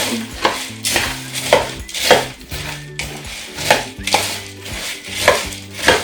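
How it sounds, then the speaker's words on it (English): Easter vanilla candy bark being stirred in a mixing bowl, with a spoon scraping and clinking against the sides in repeated strokes, close and fairly loud, no talking. "we're just going to mix this up really well to get everything in here coated really good"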